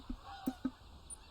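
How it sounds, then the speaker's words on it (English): Geese in the hunting game TheHunter: Call of the Wild give three short, faint honks at uneven intervals over a steady hum of outdoor ambience. "there's bloody geese again"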